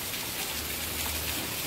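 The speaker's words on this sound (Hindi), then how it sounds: "बिल्कुल इतना तेज से बारिश" Heavy rain pours down in a dense, constant hiss, close and loud, with no breaks and no voices.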